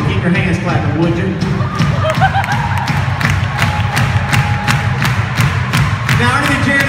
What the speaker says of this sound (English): Keep your hands clapping